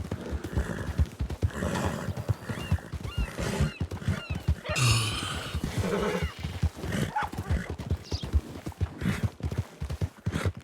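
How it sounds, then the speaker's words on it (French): Horses neigh and walk with hooves clopping on a track, the whinnies and steps layered with scattered background noise throughout. "Je pense que c'est les chevaux bien élevés qui ralentissent."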